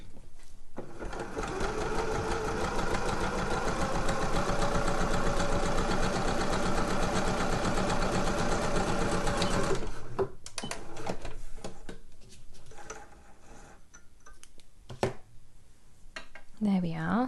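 A sewing machine runs a steady zigzag stitch around the edge of a fabric slipper upper for about ten seconds, loud and close, then stops, leaving quieter handling clicks and rustles.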